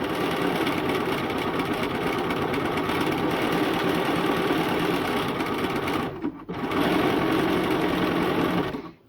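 A sewing machine runs a zigzag stitch joining two t-shirt fabric edges, a loud steady mechanical whir with rapid rhythmic chatter that stops for a split second and then resumes until the end.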